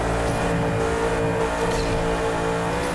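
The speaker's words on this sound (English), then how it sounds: "I hear two engine noises." Two overlapping car engine drones from the Asphalt 8 racing game, one stuck and looping beneath the other, forming a steady, dense, continuous hum with no pauses or talk.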